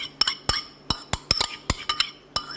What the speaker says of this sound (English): we're going to just stir in the sugar